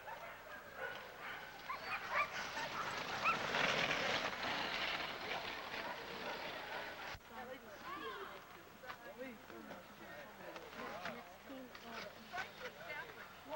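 Siberian husky sled dogs bark and yip from a distance at a snowy sled-dog race, a steady chorus of scattered barks under people talking nearby throughout.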